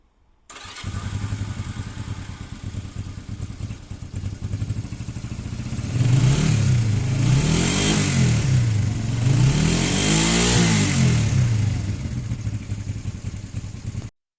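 A Honda 125 Superdream motorcycle engine starts and idles close by with a steady, rapid putter, then revs up in two swelling rises before settling back, loud and without talk.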